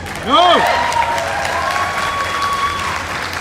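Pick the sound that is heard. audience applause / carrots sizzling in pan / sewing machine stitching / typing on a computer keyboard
audience applause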